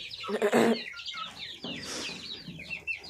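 Young chicks, a few months old, and chickens cluck and chirp close by in a short burst of overlapping calls, with no talking.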